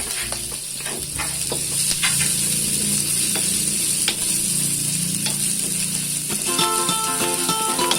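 Onions frying in a pan for a cassava-leaf coconut dish, a steady dense sizzle with scattered clinks and scraping of a utensil throughout, no talk.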